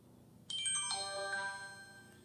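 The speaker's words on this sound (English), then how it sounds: "that's the noise from the phone" A phone chimes a short melodic text message alert beside a Pebble Time Steel smartwatch, a bright cluster of bell-like tones that rings out and fades over a couple of seconds against quiet room noise.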